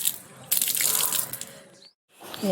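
Water runs from a tap in a home garden, a steady splashing rush that stops abruptly and then starts again, fairly quiet and with no voices.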